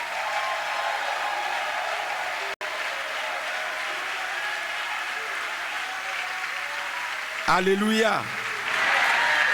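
A church congregation at a Sunday service applauds and cheers loudly and steadily, with one sharp knock partway through, then a voice sings out a drawn-out exclamation near the end before the clapping continues.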